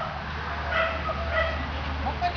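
A small, timid dog gives a few faint, high whimpers and yips over a low background hum, with people's voices nearby.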